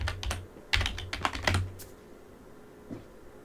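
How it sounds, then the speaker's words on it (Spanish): Password being typed on a computer keyboard while installing Android Studio on Linux: a quick burst of close, crisp key clicks for about two seconds, then a single later tap, with no talking. "Escribimos nuestra contraseña."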